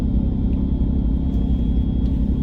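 BMW N54 engine with a single turbo set to 17 psi wastegate on its first run, a deep, steady rumble of engine noise with a slight rise in revs, close and loud.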